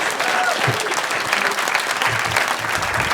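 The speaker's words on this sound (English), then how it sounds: "Guys, can we give a big round of applause to these filmmakers?" An audience at a 48 Hour Film Project Q&A screening in Glasgow applauds filmmakers, dense steady clapping from a crowd that fills the room, close and loud for the whole stretch.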